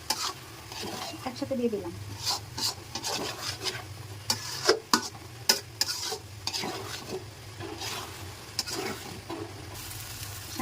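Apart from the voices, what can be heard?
raisins and almonds frying with vermicelli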